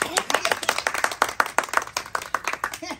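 An audience claps at a Maithili comedy show, a brisk, steady run of sharp hand claps from a small crowd, close and continuous with no talk over it.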